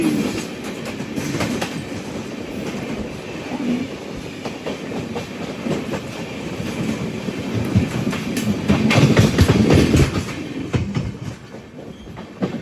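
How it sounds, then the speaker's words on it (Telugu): An Amrit Bharat Express with LHB coaches rolls along behind a WAP-7 electric locomotive, a loud sustained rumble with rhythmic clickety-clack of wheels over rail joints, swelling louder near the end before easing off. "వాప్ 7 లోకోమోటివ్ పుల్ చేస్తుంది"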